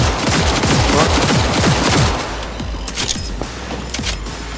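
Rapid automatic gunfire rattles loudly in a firefight in the video game Cyberpunk 2077, a dense burst of shots that thins after two seconds into scattered cracks and mechanical clatter.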